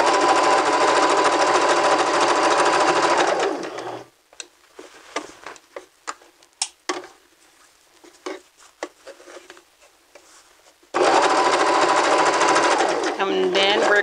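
A sewing machine stitches a seam in fabric with a rapid, loud, steady run of needle clatter. A quiet stretch of soft clicks and taps follows, then a second burst of fast stitching.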